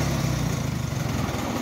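Farmall H tractor engine idling after being parked for winter, a steady low chugging rumble with even firing pulses, close and continuous with no talking.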